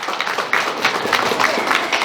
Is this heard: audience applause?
yes